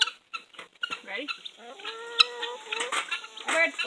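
Chickens cluck and squawk close by in a smelly coop, a busy run of short clucks and drawn-out calls, with a person talking briefly among them.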